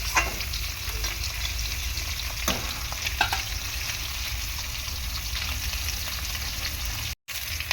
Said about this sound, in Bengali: দেখো মোটামুটি মাছ ভাজা হয়ে গিয়েছে